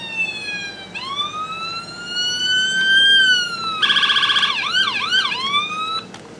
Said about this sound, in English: Let alone a four-tone siren.